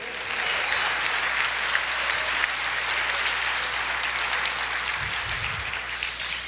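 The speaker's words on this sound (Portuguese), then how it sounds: "aplauda o Senhor" A church congregation applauds during a sermon, a continuous dense round of clapping from many hands filling the room, with a low hum underneath and a brief low rumble near the end.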